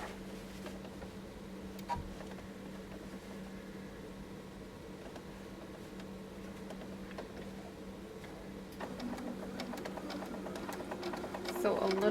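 A sewing machine stitching around the corner of a fabric piece, its faint steady hum running throughout and growing busier with quick ticking stitches near the end.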